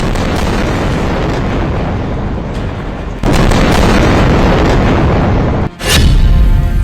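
Heavy explosions from Israeli strikes on Gaza, a dense continuous roar of blast noise with a sharper new burst near the end, loud and close, with no voices.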